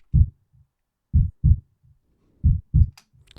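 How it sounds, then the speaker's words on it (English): Low-health heartbeat from the Shattered Pixel Dungeon video game: deep, muffled paired thumps repeating in a steady lub-dub rhythm, close and alone, with a faint tonal tail near the end. "we have a heartbeat."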